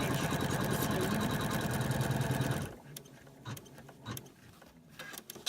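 Sewing machine running steadily for about two and a half seconds while stitching the position stitch on a doll's sleeve, a loud, fast even whir that then stops, leaving quiet handling noises.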